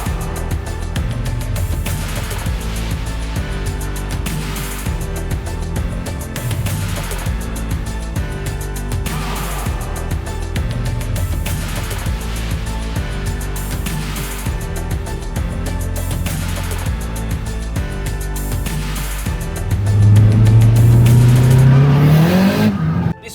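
A Nissan S15 sports car in lightning yellow, its engine droning steadily and loudly, then revving up sharply near the end with a rising pitch.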